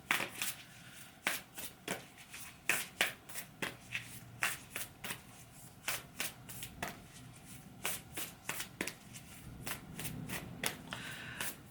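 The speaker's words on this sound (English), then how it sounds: "going to pull a card." A deck of playing cards is shuffled in a tarot-style card reading, with a rapid run of crisp riffling bursts and soft slaps repeating steadily at close range, no talking over it.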